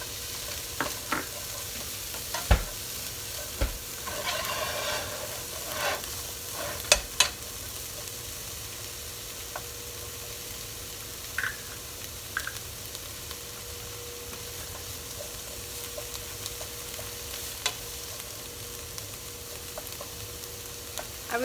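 Garlic and onion frying in a pan on the way to a meatball and rotini pasta sauce, giving a soft continuous sizzle with occasional clicks and scrapes of stirring, close and unaccompanied by talk.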